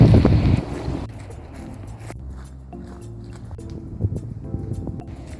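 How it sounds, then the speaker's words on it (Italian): Strong wind roars and buffets the microphone on a hillside trail near wind turbine blades, a loud low rumble throughout that eases slightly after the first second and then keeps gusting unevenly. "c'è tanto vento qua"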